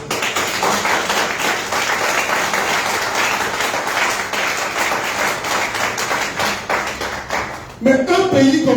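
A live crowd in Abidjan claps loudly and continuously for several seconds, rapid overlapping hand claps filling the space, before a voice cuts in near the end.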